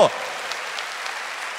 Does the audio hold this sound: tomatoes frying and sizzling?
no